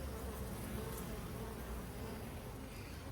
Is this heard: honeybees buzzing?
yes